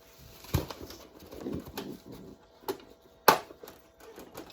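Spanish buchón pouter pigeons coo softly close by, with low murmuring calls broken by a few sharp clicks and knocks.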